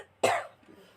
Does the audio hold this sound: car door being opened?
no